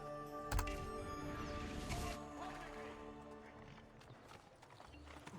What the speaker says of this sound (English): they made it so you could ride horses in towns in this game